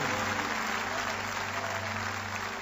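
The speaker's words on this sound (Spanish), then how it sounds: "Débele fuerte ese aplauso a Él" Congregation clapping during a church worship service, a thick continuous wash of applause at steady loudness with a low musical hum underneath.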